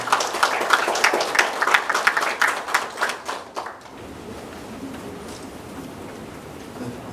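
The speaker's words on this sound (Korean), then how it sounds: "큰 박수로 주시겠습니다." Forum audience claps in a crisp burst of separate hand claps that thins out and stops partway through, leaving a quiet hall with faint room noise.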